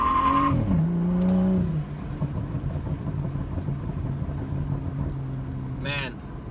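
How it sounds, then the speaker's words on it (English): BMW F30 355i or E93 335i using launch control in sport plus, with the engine revving hard and the tires spinning through all of first gear. It is loud and steady, with a shift and a brief squeal near the end. "I just tried launching and it was a huge fail. I just spun the entire first gear"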